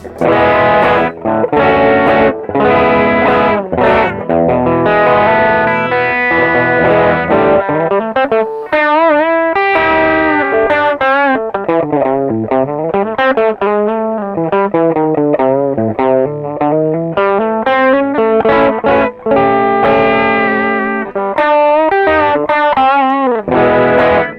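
Electric guitar driven through an Ibanez JD-9 Jet Drive overdrive pedal, loud and continuous, with crunchy distorted chords at first, then a long stretch of bending, sliding lead lines, all close and alone with no voice.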